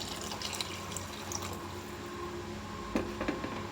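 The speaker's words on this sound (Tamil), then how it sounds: "கொஞ்சம் தண்ணி சேர்த்துக்கலாம்." Water pours softly into a cooking pot of tamarind curry, quiet and close, with a couple of sharper splashes or clinks near the end.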